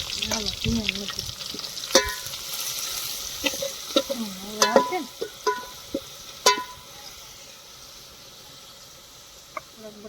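Potatoes are tempered and stirred in a pan in a village kitchen, a steady sizzle of frying with scraping spoon strokes and clinks, a car horn faint in the distance.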